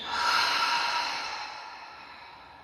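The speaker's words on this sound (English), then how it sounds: "take one last big inhale, as deep and slow as you can make it. Exhale out." A single slow, deep breath out through the mouth, close and breathy, that swells quickly and then fades gradually over a couple of seconds during a hatha yoga session.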